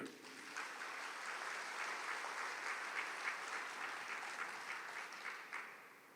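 A church congregation claps with raised hands, dense sustained applause throughout that fades slightly near the end, quiet and somewhat distant.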